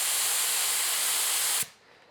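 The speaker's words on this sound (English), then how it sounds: "one way you can test it is you want to spray and hold it" A beginner's spray gun sprays in one steady, loud hiss held for about a second and a half, then cuts off abruptly, leaving a faint quiet tail.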